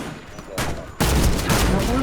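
Gunfire rattles in the online shooter Warface during a clan match. A quieter burst comes first, then a loud, sustained stream of automatic fire that stays dense and steady to the end.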